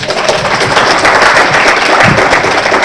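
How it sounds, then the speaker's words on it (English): A dense, loud round of applause from an audience for students at an internship presentation, continuous close clapping with no pauses. "Let's give our students one more round of applause."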